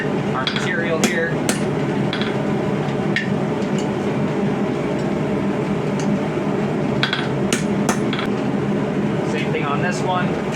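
Coil spring steel is hammer-forged and straightened for a mini saex knife, with repeated sharp ringing hammer blows at an irregular pace over a steady background hum.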